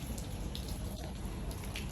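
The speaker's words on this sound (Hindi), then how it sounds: "इतनी बारिश में कौन बाहर जाता है" Heavy rain falling outdoors, a dense steady hiss of drops spread across the whole clip with no break, fairly loud and close, with no voices over it.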